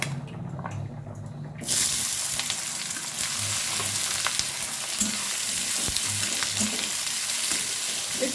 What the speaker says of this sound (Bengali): এবারে আমি পেঁয়াজের বেরেস্তা বানিয়ে নেব